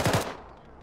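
An auto gunner's machine gun fires a short, close double burst in ArmA, then the sound quickly fades into a brief echoing tail.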